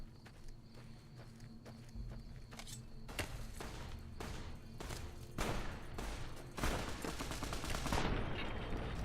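Rapid video game gunfire, a series of sharp cracking shots in an irregular rhythm building into denser bursts near the end, fairly faint overall.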